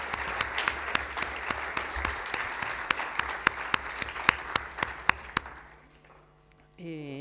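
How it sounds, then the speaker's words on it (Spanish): Audience applause at the close of a Spanish-language lecture on new weapons and preparing for war: a dense wash of clapping with sharp individual claps standing out, fading away near the end before a brief voice. "Un aplauso, claro que sí."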